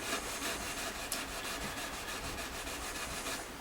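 Fine-grit sandpaper rubbed across the frets of a 1992 Fender Prodigy Stratocaster in quick, rhythmic back-and-forth strokes, a close, dense scratchy rasp with no gaps.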